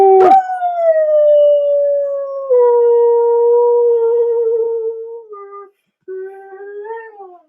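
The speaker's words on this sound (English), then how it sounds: "Howling! Howling!" A dog howls loudly and close up in long sustained, wavering tones that slide slowly downward, with one brief pause before a final rising howl.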